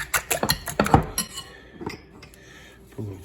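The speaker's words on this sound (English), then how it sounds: "gonna beat up our eggs a little bit" Eggs are beaten with a utensil in a bowl, a quick series of clinking taps for about a second, then a few scattered scrapes and knocks with quiet gaps between.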